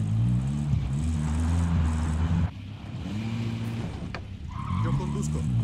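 A car in Call of Duty: Modern Warfare drives with a steady, droning engine while its tires squeal and skid, loud and close, with some voices over the vehicle noise.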